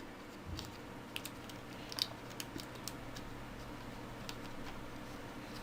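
A laptop keyboard connector is lined up by hand and pressed into place, making several faint plastic ticks and clicks spread over a few seconds, with one sharper click near the middle.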